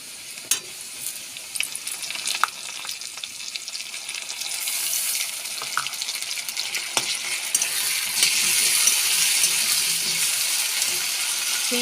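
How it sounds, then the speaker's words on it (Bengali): Onions frying in a pan with onion paste and garlic paste added, a steady close hiss and crackle that swells louder toward the end, with a few scattered clicks of stirring. "দেখো পেঁয়াজটা ভাজা ভাজা হয়ে এসেছে।"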